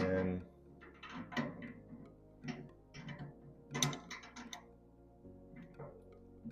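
A wrench turning a nut on a vibratory screener, a few metallic ratcheting clicks and scrapes in short bursts, close and fairly clear against a quiet background.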